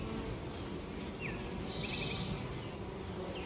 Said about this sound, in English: A lot of those are my bees, but it's also a lot of solitary bees.